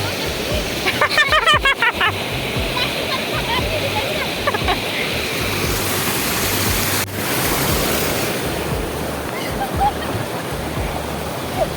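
Water rushes over Vadri Dam in a loud, continuous roar, with a brief burst of rapid clicking near the start and a short knock midway.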